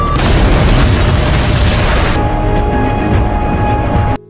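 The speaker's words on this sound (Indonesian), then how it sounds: "Tiba-tiba terjadi ledakan." A loud explosion from a gas leak in a heater at a shop, a sustained roaring blast that holds for about two seconds, then a rumbling tail that cuts off abruptly.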